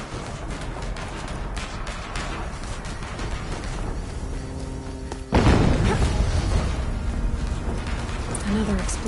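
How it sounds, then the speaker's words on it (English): An explosion erupts in Horizon Zero Dawn, a sudden loud boom partway through that cuts over a low background rumble and leaves a sustained roar afterward. "Explosion."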